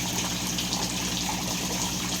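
Water running from a pipe into a tilapia pond, a steady close splashing and trickling wash with no pauses, moderately quiet and alone.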